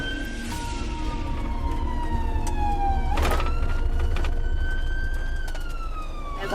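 An ambulance siren wails continuously from inside the moving vehicle, its pitch sweeping slowly up and down over steady road and engine rumble, loud and near throughout.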